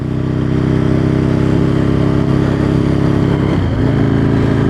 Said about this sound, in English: Done a lot more work on the Aprilia, and this is its shakedown ride.